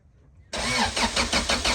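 Car engine cranks and catches after a transmission rebuild, roaring abruptly to life and settling into a loud, rough idle with rhythmic pulsing, heard close up with no talking.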